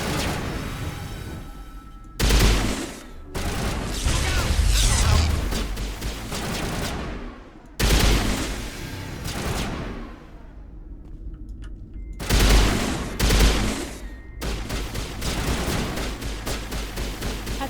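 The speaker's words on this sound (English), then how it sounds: "That's a very strange pistol." Gunfire in the Mass Effect video game, loud bursts of rapid shots and booming impacts that come in several waves separated by short drops, with a steady rumbling battle bed between them.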